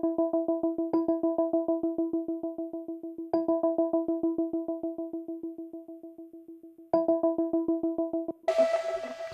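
Synth music track with a strong tremolo effect, a sustained harmonic tone chopped into fast, even pulses, with sharp re-attacks every few seconds and a brief noisy burst at the end; no voices.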